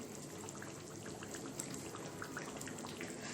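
Fried potatoes tipped into a simmering aloo gosht mutton curry with added water, giving a steady wet crackle and sizzle with scattered small pops throughout, close and even, with no voices.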